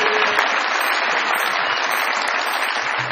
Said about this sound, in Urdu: بہت ساری تالیوں میں ان کو ویلکم کیجیے گا.